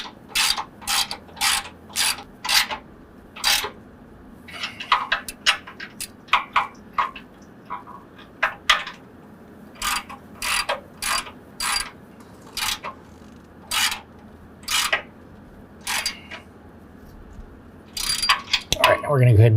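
Ratchet with an 18 mm socket tightening the bolts of a Black Horse Armour tubular light-duty front bumper: repeated bursts of sharp clicking in an uneven rhythm with short gaps, close up, ending in a louder rattle.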